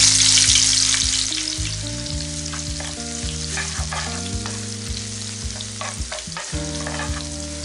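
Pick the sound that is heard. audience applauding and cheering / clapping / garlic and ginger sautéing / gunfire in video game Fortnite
garlic and ginger sautéing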